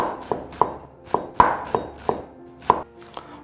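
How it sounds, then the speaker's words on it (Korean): A knife finely chops ingredients on a cutting board for a Yeonpyeong Island blue crab risotto. About a dozen crisp, close taps come in uneven bursts, with short scraping sweeps between them and no talk. "요거는 이제 찹을 할 거예요"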